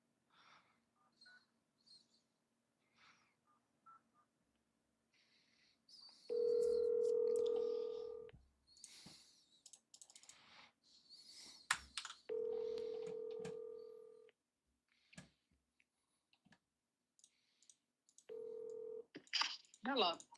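Phone tones while calling a property lead: long loud dial-tone stretches and bursts of keypad beeps, broken by quiet gaps and short clicks, with a voice speaking briefly in between.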